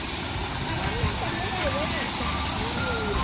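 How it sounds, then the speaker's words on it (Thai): A small waterfall pours into a koi pond at a zoo, giving a steady, loud, even rush of falling water throughout, with faint voices murmuring underneath. "โอ้ยมีน้ำตกด้วยดูดิ"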